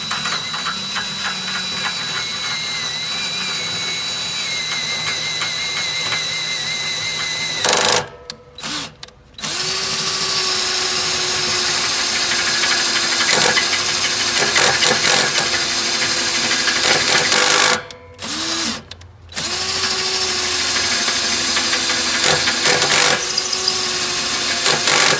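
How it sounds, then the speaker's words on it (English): A cordless drill drilling steel on its lowest speed whines steadily and loudly at high pitch, stopping twice briefly before starting up again, with grinding texture throughout. "I'm actually going to turn the speed down to 1 on this drill"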